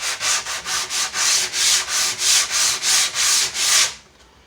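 Hand sanding with 120 grit sandpaper on the topcoat of a cabinet face frame gives a close, loud rasp in about a dozen even back-and-forth strokes, stopping abruptly near the end.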